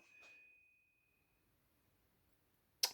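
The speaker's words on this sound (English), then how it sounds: "Solid brass sanctuary bell." A solid brass sanctuary bell gives one soft, clear ding that rings out and fades over about a second, then silence until a sharp clink at the end.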